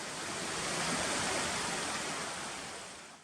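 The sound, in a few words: stream water flowing on a trail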